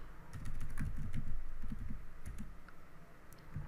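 Code is typed on a computer keyboard in a steady patter of close, soft key clicks, with small irregular pauses and no talking.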